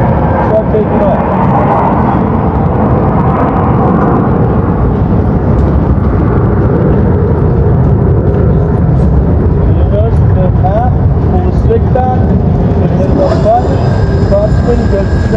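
RYSE Recon manned electric aircraft lifting off at CES 2023, a steady loud broadband whirring roar from its electric rotors that holds across the whole stretch, with rising tonal whines near the end.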